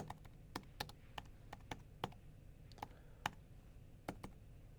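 Keystrokes on a computer keyboard as a name is entered into a search box, about a dozen light, irregular clicks spaced over several seconds, fairly quiet and close, with no talking.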